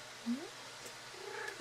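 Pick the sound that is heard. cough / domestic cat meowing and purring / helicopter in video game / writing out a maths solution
domestic cat meowing and purring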